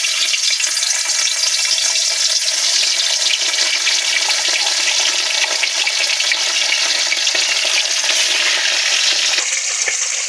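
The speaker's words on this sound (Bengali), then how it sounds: "রসুনটা ভাজা ভাজা হয়ে গেছে" Garlic fries in hot oil in a pan, a loud, dense, unbroken sizzle that holds steady throughout without pauses.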